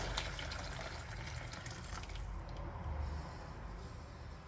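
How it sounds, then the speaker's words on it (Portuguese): Water pours steadily into a basin in a Brazilian home kitchen, a continuous close splashing stream that softens slightly near the end, with no voices. "agora eu vou colocar minha água numa bacia."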